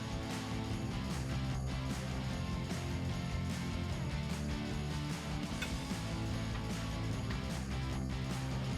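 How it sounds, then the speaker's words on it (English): A breaker bar with a 15/16 deep socket cranks on tight lower control arm cam bolts on a Toyota Tundra frame, making a dense, continuous run of close mechanical clicking and grinding with no voices. "we're just gonna crack loose but not fully remove the lower control arm cam bolts connected to the frame"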